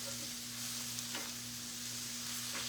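Garlic sizzles and fries steadily in a hot pan, a continuous close hiss with faint stirring and a low background hum, no talking.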